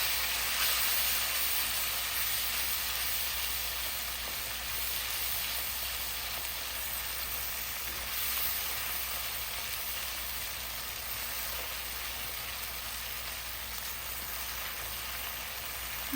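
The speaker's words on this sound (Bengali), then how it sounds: "মশলাটাকে ভালো করে কষিয়ে নেব" Turmeric and cumin masala frying in a pan for a braised eel fish dish, a faint, even sizzling hiss that carries steadily without pause, with no voices.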